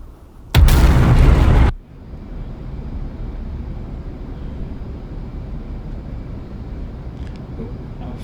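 An F/A-18C Hornet in DCS dropping its fuel tank, a loud, sharp burst lasting about a second over a steady engine and wind drone that continues afterward, with no voices.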